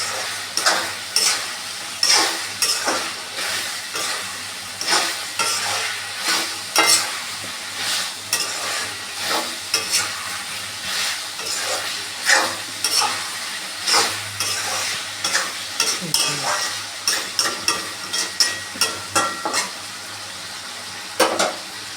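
Chettinad pepper chicken masala sizzling and frying in a pan, with repeated scraping stirs at a steady rhythm that grow denser toward the end, close and loud, with no talk.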